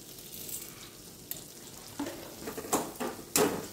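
Green pea paste fries in a pan, a steady soft sizzle with intermittent scraping stirs and a few louder clanks of the spatula against the pan toward the end, with no talk.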